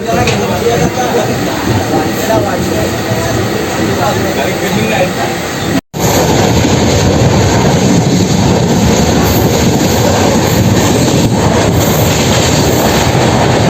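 Steady rumbling roar of a moving train, continuous and loud throughout, with a brief dropout midway before the noise resumes.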